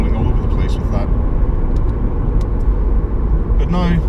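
A Lexus IS250 rolling over potholes and bumpy road while cornering, a steady loud cabin road rumble with dull thumps from the suspension, and someone speaking briefly over it.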